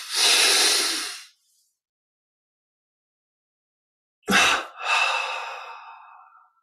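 Slow breaths during a guided meditation: a long, soft exhale up front, then after a silent pause a sharp intake followed by another drawn-out breath out, close and alone.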